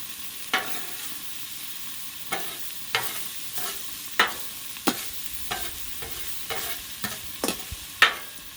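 Onions and peppers sizzling on a Blackstone griddle, a steady close frying hiss broken by about a dozen sharp scraping spatula strokes at an uneven rhythm, with no talking.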